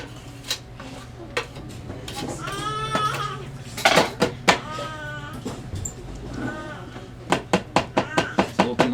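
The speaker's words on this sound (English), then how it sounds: "And I want to scrape it." Excess chocolate is scraped out of a shell mould, giving scrapes and clinks under a voice. A quick run of sharp metallic taps and clicks follows, close and crisp.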